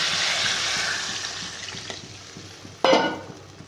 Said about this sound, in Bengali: এবার জল ঢেলে দিই।